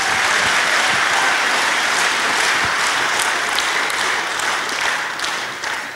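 A large stage-concert audience applauds loudly and continuously, a dense wash of clapping that holds steady before beginning to thin toward the end.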